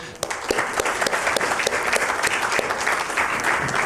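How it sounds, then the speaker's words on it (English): An audience at a conference session on Islamic law claps steadily, a dense, close burst of applause that stays level throughout with no voices over it. "please join me in a round of applause again"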